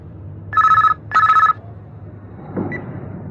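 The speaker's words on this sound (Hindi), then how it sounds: "करना, मेरा फोन है।" A mobile phone rings in two clear, evenly spaced bursts of a bright electronic tone, loud and close, followed by a faint rustle.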